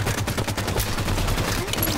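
Gunfire from Halo 5 multiplayer, a dense, continuous burst of rapid shots filling the whole clip, loud and unbroken, with no talk over it.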